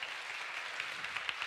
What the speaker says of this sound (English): You can applaud her